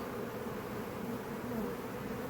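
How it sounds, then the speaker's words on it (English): A honey bee swarm in a backyard hive box gives off a thick, continuous buzzing drone of many bees, close and steady throughout with no talking. "there's just a lot of bees in this box"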